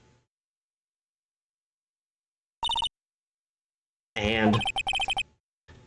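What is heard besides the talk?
phone booth telephone ringing in Phoenix Wright video game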